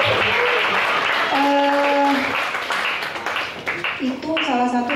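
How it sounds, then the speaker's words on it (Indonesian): A church congregation claps together in a burst of applause while voices ring out over it, the clapping thick at the start and thinning toward the end as the sound grows more uneven. "Tepuk tangan dulu."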